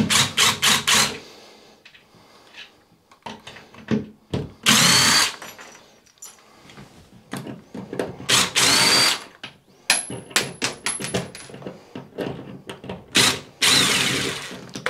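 A power drill spinning out the screws of a bathroom towel rack bracket, with repeated short whirring bursts and brief pauses, close and loud, plus some clicking handling noises between runs.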